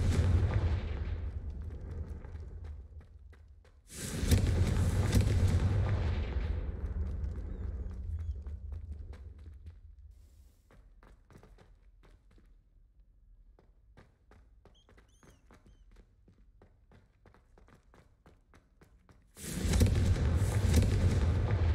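A Confringo spell explosion in Hogwarts Legacy bursts loud and sudden, then rumbles and fades over several seconds. Fainter crackles and impacts follow, and a second blast hits near the end.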